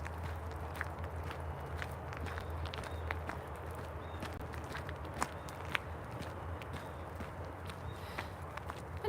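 Footsteps of a person walking along a dirt trail through Moraine State Park on the North Country Trail, a faint, irregular patter of steps over a low outdoor rumble, with no talking.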